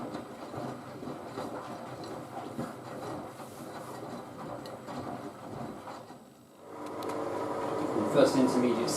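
A Miele W562 Prestige Plus 6 washing machine drum churns through a shuttle rinse, giving a steady rumbling, sloshing wash that dips briefly and then swells louder and fuller toward the end.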